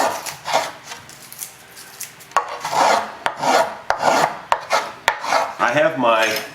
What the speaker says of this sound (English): Otherwise, you're just hogging out wood.